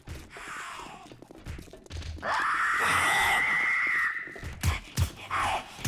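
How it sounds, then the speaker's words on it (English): A zombie in the 7 Days to Die video game lets out a long, loud, wavering scream lasting a couple of seconds, bracketed by shorter groans and grunts, heard without talking. "they detected us and screamed"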